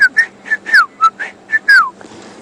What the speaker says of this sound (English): So that was the sound of the Shelley's Franklin.